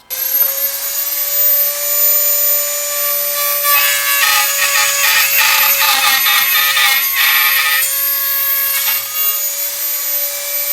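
A power tool with a steady high whine cuts a cable notch in a fan mod for a Ram Mount iPad yoke, the motor tone constant throughout with gritty rasping bursts as it bites into the material.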